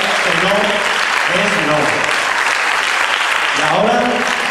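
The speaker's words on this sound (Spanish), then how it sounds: "Así un aplauso para este trabajo." Loud, dense applause fills the hall at an urban dance gala, with voices calling out over the steady clapping throughout.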